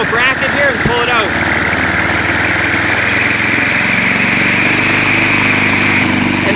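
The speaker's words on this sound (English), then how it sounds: "the machine's running at a low RPM" A Craftsman 22-inch walk-behind trimmer runs at low RPM, its small engine droning steadily and loudly up close, while a voice talks over it early on.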